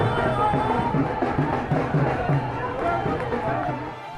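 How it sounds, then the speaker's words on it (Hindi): A large crowd of party workers gathers on a street, giving steady outdoor hubbub and babble with footsteps and movement. A reporter's voice carries over the crowd noise. "कार्यकर्ता नियम तोड़कर सड़कों पर उतर आए"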